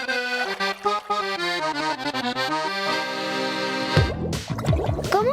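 An accordion on its fullest register plays a rich stepping melody and a held chord, then ends in busy, rapid note flourishes, close and without talk.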